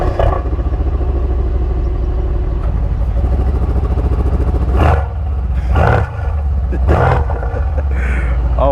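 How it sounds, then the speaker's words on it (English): Exhaust from a 2021 Mercedes-AMG C63s sedan with a V8 and quad exhaust, rumbling close by at a steady idle. Three short, loud revs rise out of the burble toward the end. "I'm gonna let you guys hear how the exhaust sounds really quick."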